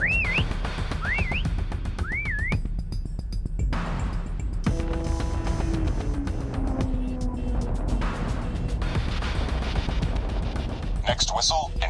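Rising and falling whistle signal in Call of Duty Mobile, three short wavering tones sounding clearly near the start over steady game noise and rumbling effects, with a further burst of whistling near the end.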